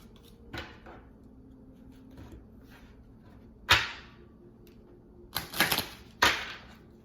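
Tarot and love oracle cards being pulled from a deck produce a few sharp, close papery snaps and flicks separated by quiet pauses, with a quick cluster of flicks near the end.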